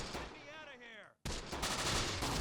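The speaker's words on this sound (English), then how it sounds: "I'm also going to start firing a mortar over in this area." Mortar fire in the PC game Close Combat: The Bloody First, with a sharp boom cutting in after a brief silence and followed by dense, sustained blasts and crackling fire.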